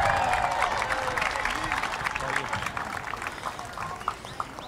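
At a university celebration parade for a basketball team reaching the Elite Eight, a crowd applauds its athletic director: a dense, steady round of clapping with some cheering, fading slightly toward the end.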